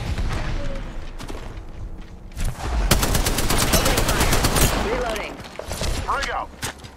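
Rapid bursts of automatic gunfire in a shooter video game, loud and close, with rattling volleys and booms overlapping and voices talking over the action.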